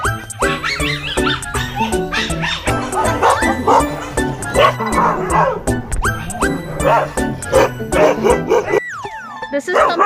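Shelter dogs barking, yipping and snarling in a close, continuous scuffle over territory, several animals overlapping loudly with whimpers and squeaks throughout.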